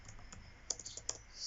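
A few quick keystrokes on a computer keyboard while editing a WordPress theme footer, soft light clicks in a short irregular burst, close and quiet with no talking.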